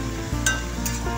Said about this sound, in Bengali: আমি এগুলোকে একটু কষিয়ে নিই,